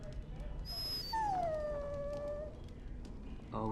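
A dog in the video game Dragon Age Origins gives one drawn-out, high whimpering whine that slides downward and fades, heard alone over a low background rumble.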